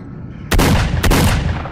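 Two loud, close gunshots ring out about half a second apart in the video game S.T.A.L.K.E.R.: Shadow of Chernobyl, each bursting sharply and leaving a rumbling tail.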